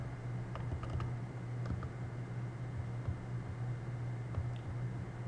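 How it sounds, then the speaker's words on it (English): Fingers type on a computer keyboard, a string of light, close keystroke clicks in short bursts over a steady background hum, with no talking. "let me type somewhere here"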